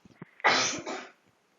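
A single harsh cough bursts out loud and close after a few faint small noises, a roughly half-second rasping burst that trails off quickly into near silence.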